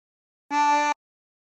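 A single short draw note on a tremolo harmonica, inhaled through hole 10, bright and reedy with a rich harmonic buzz, sounding alone for about half a second.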